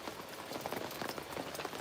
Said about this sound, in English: It's just lightly raining.